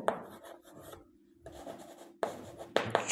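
Chalk or marker writing the number 0.067 on a board during a class 5 math lesson, short scratchy strokes in bursts separated by brief pauses, close and clear with no talking.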